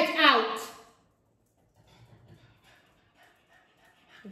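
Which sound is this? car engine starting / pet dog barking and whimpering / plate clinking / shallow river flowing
pet dog barking and whimpering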